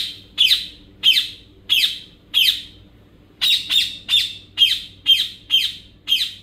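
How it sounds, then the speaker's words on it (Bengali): Ringneck parrots in an open aviary give a series of about a dozen sharp, harsh squawks in a steady rhythm with a brief pause midway, loud and close over a faint background hum. "ওরা একটু বেশি চিল্লাচিল্লি করবে।"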